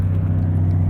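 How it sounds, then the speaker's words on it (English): A deep, steady low rumble from a truck's Jake brake, loud and continuous, with a throbbing mechanical drone and no voices. "Oh, another Jake brake"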